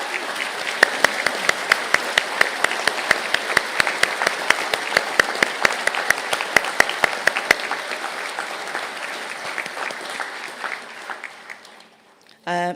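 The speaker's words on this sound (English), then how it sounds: "Can I ask the graduates of the Bachelor of Business degree in Marketing and Sales and the Bachelor degree in Marketing and Sales honours to stand for a round of applause" Sustained applause from a seated audience at a university conferring ceremony in Galway, sharp distinct claps ringing out over a steady wash of clapping that slowly thins and fades near the end.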